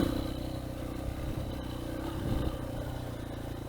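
A Yamaha TTR125L dirt bike being broken in with a new piston runs along a Houston bayou trail, its small engine droning steadily and close under rattling and wind rumble.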